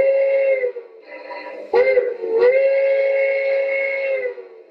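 A G scale Bachmann Shay steam locomotive fitted with a SoundTraxx DCC sound decoder blows its steam whistle in a loud, close, steady tone with two short breaks in the middle, heard alone.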